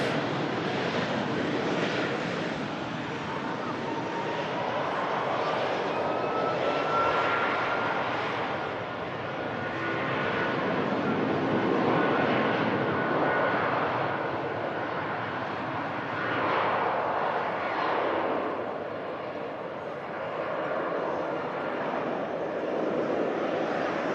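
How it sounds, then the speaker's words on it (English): A Jet2 Boeing 757 airliner flies past a runway, its loud, broad engine roar swelling and easing steadily for over twenty seconds without any talk. "Lovely sound there from the Jet 2"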